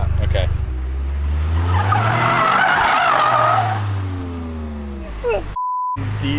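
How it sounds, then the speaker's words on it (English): A Toyota GR Corolla spins a windmill donut, tires skidding and squealing steadily over a loud engine for several seconds, with a short electronic beep near the end. "I'm gonna see if I could do like a windmill donut"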